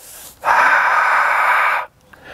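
One forceful, breathy exhale pushed from the back of the throat during an abdominal exercise, loud and close, lasting about a second and a half.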